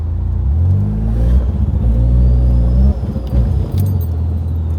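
A Mercedes 190E fitted with a swapped ZF 8HP gearbox drives under power, its engine droning loud and close as the pitch climbs, then briefly drops and bumps through a shift.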